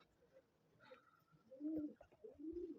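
Pigeons cooing close by inside a pigeon breeding loft, a couple of low throaty coos in a quiet indoor space, with faint background rustling.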